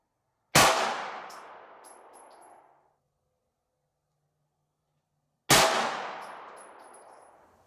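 Two sharp, loud gunshots from 9mm SIG Sauer V-Crown ammunition fired into a Simtest gel block, about five seconds apart, each a sudden crack followed by a long ringing, reverberant decay outdoors.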